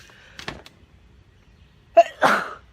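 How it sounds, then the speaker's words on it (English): A person sneezes twice, a softer sneeze first and then after a pause a louder, sharper one with a breathy burst, close to the microphone in a quiet room. "sometimes when I start sneezing, I can't stop sneezing until I blow my nose"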